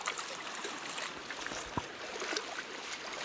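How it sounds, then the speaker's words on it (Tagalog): Floodwater runs like a stream across farmland, a faint, steady rushing wash heard alone at a distance, with no talking. "Parang sapa na, oh. Dito talaga sa bukid."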